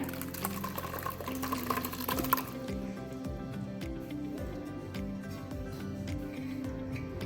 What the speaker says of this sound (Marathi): आता हे आपण एका बारीक कापडाने गाळून घेऊया।